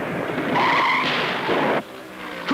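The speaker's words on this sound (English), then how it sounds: "Other drivers slide all over the racetrack." NASCAR stock cars skid and slide around a racetrack during the 1978 Southern 500, with loud tire squeal and engine roar that cut off abruptly, then a brief rise again near the end.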